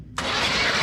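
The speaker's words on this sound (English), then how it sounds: "She's cranking good." A 1988 Chevrolet 3500 engine cranking over, a brief loud steady starter churn that kicks in abruptly after a short quiet moment.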